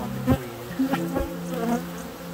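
A large swarm of around fifty thousand bees hums in a horse stable, with a steady close buzz and a few sharper passes as individual bees fly near, with no voices.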